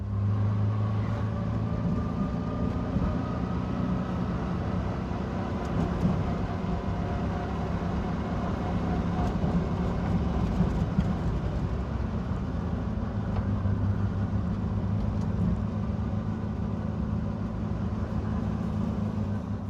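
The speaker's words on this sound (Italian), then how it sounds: "Immaginate questo motore Fiat di 2000 di cilindrata 8 cilindri." A Fiat 8V two-litre eight-cylinder car engine runs steadily with a low, throaty hum at moderate volume, continuous throughout with no voices.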